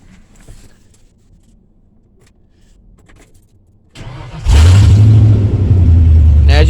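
A Ford F-150 pickup with a new alternator cranks briefly and its engine catches, settling into a loud, steady idle close by, after a quiet stretch of faint shuffling and handling noise.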